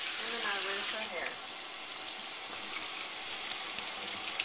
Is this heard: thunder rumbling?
no